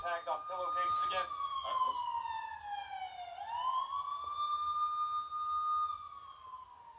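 A police car siren wails in a long rising and falling sweep, fairly faint and distant, with brief voices near the start.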